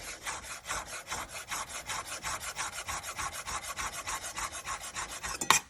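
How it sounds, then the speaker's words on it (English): A knife slices fresh basil into thin chiffonade strips, making quick, even rasping strokes about five per second, close and fairly quiet. A sharp clack ends the run. "I want to cut that into a chiffonade cut"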